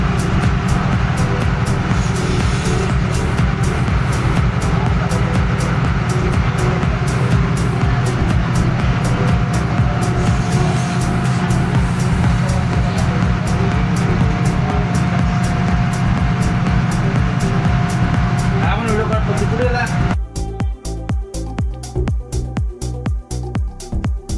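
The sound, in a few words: car driven off ro-ro boat onto jetty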